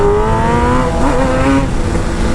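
A Kawasaki ZX10R motorcycle engine revs hard on an open road, a loud, close rising whine that shifts pitch mid-way through before holding steady.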